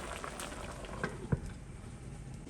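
Cow foot stews in a covered pot on the stove for a Jamaican brown stew, giving a soft, steady bubbling simmer with a few faint lid or pot taps.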